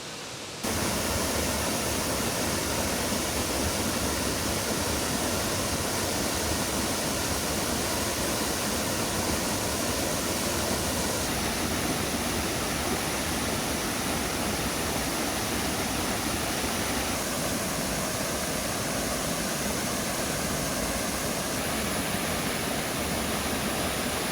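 Ilıca Waterfall in Turkey roars steadily throughout, a dense, constant rush of falling water close by with no voices.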